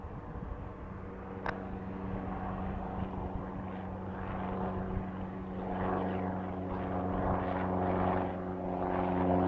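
A propeller airplane drones steadily as it lands on runway 16 at Kelowna airport, its engine tone swelling gradually, fairly distant and continuous, with no talking.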